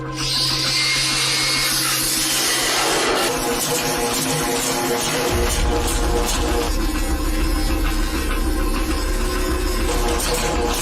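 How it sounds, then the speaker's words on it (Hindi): A handheld grinder cuts through joints one after another, a loud continuous whine and grinding rasp that shifts in pitch partway through, close by and with no talk. "वो ग्राइंडर लो और एक एक करके जॉइंट काटो"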